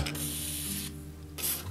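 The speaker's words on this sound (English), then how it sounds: "spray a little bit of Tri-Flow on the skewer." Tri-Flow lubricant is sprayed onto a bicycle skewer during a vintage Cannondale tune-up: two short, close hissing bursts from the aerosol can, separated by a brief pause.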